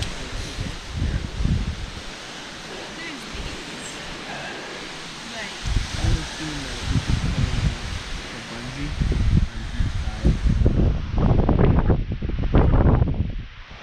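Strong wind gusts buffet and roar across the open summit of Sawteeth Mountain in the Adirondacks, swelling and easing in waves, rising to a heavy rush toward the end; no voices.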